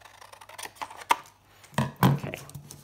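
Paper being cut along a score line on a die-cut pocket card project, giving a few sharp close-up snips and slicing cuts, with one brief louder crunch near the end; no talking.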